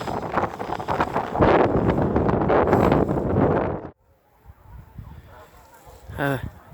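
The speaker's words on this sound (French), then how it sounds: "Honnêtement, mais un vent glacial quoi." Strong, icy-cold wind buffets the microphone with loud rumbling gusts on a hiking trail in the Chaîne des Alpilles, France, then drops to quiet outdoor ambience with a brief honking call.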